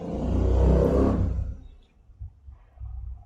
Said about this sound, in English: there is some traffic noise and all that bullshit